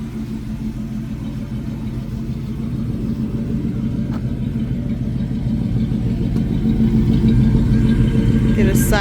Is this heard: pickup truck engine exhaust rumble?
yes